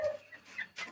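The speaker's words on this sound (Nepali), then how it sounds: "मेरो पोल्ट्री फार्म चाहिँ यस्तो" A few short, quiet clucks come from chickens and young chicks in a small poultry farm, a brief burst of calls.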